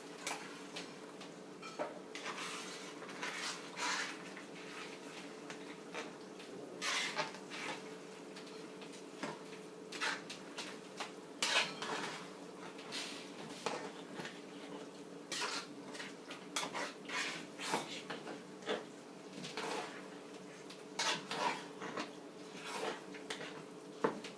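A spoon scraping and stirring inside a pot of arroz con gandules as it cooks, with repeated clinking metal scrapes and taps at an uneven pace over a steady background hum, close by with no talking.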